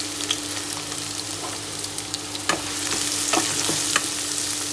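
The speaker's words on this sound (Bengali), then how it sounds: "এখন আমি পেঁয়াজ কুচি আর রসুনের কোয়াগুলো ওই তেলেই ভেজে নেব" Chopped onion and garlic cloves fry in oil in a pan, giving a loud continuous sizzle with scattered clicks and scrapes of a spoon stirring.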